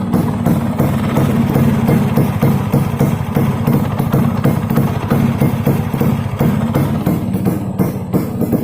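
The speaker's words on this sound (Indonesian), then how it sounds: "Ini tak kopling ya," A restored Vespa PX scooter's engine runs with the clutch pulled in, a steady, close, evenly pulsing idle that carries on without a break and without talk.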